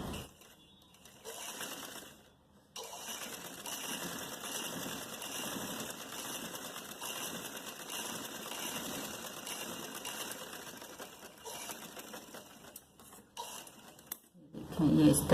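A sewing machine running steadily while stitching a shalwar, a continuous fast mechanical whirr and needle clatter with a few brief pauses and restarts, close and clear with no talk over it.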